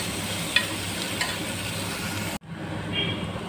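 Vegetables with green peas sauté quietly in oil in a pan for a Tamil sothi veg stew, giving a soft steady sizzle with light stirring clinks before a brief cut and a faint return.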